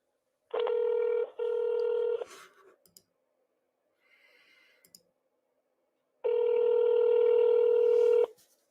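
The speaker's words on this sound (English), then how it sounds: "Let's go ahead and give him a ring, or give his office a ring" A telephone call placed to a U.S. senator's office: two long touch-tone dialing beeps, a pause with faint clicks, then a longer tone, clear and close with no voices.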